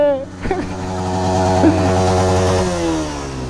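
A motorcycle engine runs with a loud, steady droning hum that rises and shifts slightly, while several people talk and shout over it.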